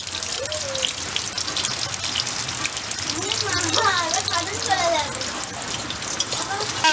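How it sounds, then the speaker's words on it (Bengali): Heavy rain falls during the monsoon, making a steady hiss and patter of drops on surfaces, with a voice and other household sounds mixed in partway through. "কত বৃষ্টি হচ্ছে দেখবে তো"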